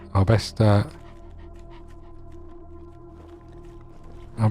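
A dog pants in a video game, with short loud bursts of breathy panting at the start and end over a steady low droning game background.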